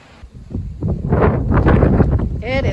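Strong storm wind buffets a high tunnel, gusting and rumbling loudly close by with rustling and flapping, and a voice briefly speaks over the gusts.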